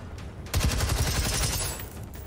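Rapid gunfire rattles in the Generation Zero video game, a dense burst of loud shots starting half a second in and hammering steadily for over a second before trailing off, with no talk.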